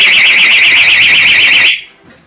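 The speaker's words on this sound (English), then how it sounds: "Also, you can use one of these personal alarms exactly the same way." Personal alarm attached to a motorcycle sounding off as an anti-theft device, a piercing, warbling electronic siren, very loud and close, that runs for under two seconds and then cuts out abruptly.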